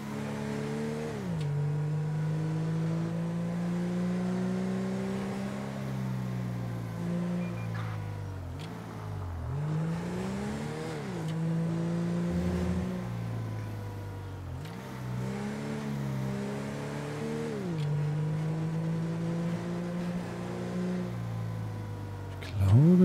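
Car engine driven in GTA 5, a mid-pitched hum that swells and drops as the car speeds up and slows down in repeated cycles, with faint talk underneath.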